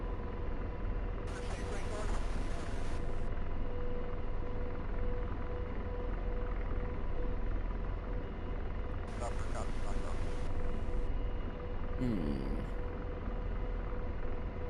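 An AH-64D Apache helicopter in a flight simulator game spools up for takeoff, a steady droning engine and rotor rumble throughout, with bursts of radio chatter and voices over it.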